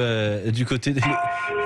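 A mobile phone ringtone of chiming bells plays steady, melodic harmonic tones, while a voice talks over the middle of the passage.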